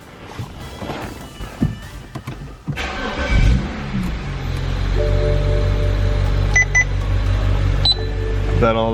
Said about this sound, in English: Now I'm going to go ahead and start the car.